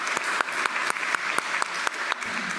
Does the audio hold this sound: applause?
yes